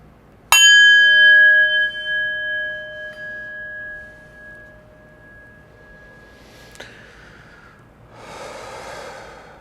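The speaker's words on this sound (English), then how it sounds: "We'll start at the ring of the bell." A meditation bell struck once with a sharp attack, then a long, clear ringing tone that slowly fades over several seconds in a quiet room, followed by faint breathy noise.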